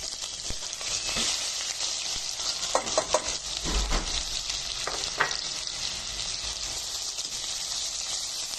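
Onion sizzles in melted fat with a continuous bright hiss, while a few scraping stirs and soft knocks stand out in the middle. No one speaks.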